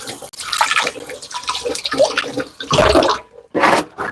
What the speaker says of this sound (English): I'm going to just rinse my hands really quickly